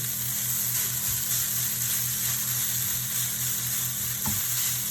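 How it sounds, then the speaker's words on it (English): Ingredients for chow mein fry in a pan with a steady, loud sizzle that runs throughout, broken by faint stirring and scraping knocks. "I guess you could fry them as long as you wanted to."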